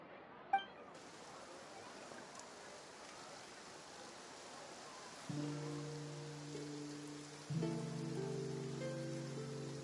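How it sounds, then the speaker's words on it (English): Soft, steady rain patter in Genshin Impact, a continuous hiss heard alone at first, then partly covered by sustained music chords entering midway. "Looks like rain."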